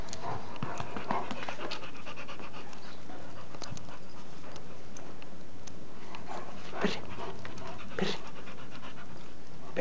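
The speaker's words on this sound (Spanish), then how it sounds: "Perros, perros, perros." Steady, rapid dog panting fills the scene up close, with occasional small whimpers and yips mixed into the continuous breathy rhythm.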